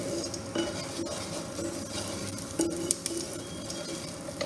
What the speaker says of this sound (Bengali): তাহলে সেখান ক্ষেত্রে আপনার সুজিটা ভাজা হয়ে যাচ্ছে।